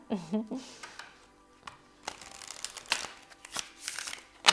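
Tarot cards being shuffled by hand during a pick-a-card reading, several soft riffling and flicking bursts spread across a few seconds, close and fairly quiet with brief speech sounds between them.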